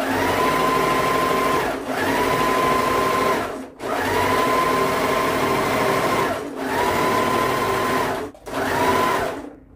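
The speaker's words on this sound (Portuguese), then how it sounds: "meus colegas aí costurando sempre em máquina como essa" A domestic sewing machine stitches knit fabric in loud, sustained whirring bursts, four or five runs separated by brief pauses, close up with no voices.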